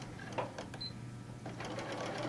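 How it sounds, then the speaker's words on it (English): Sewing machine back stitching to secure a pocket onto a sea breeze tote bag panel, a steady close mechanical whir with short bursts of stitching and light clicks. "and just do a little back stitch"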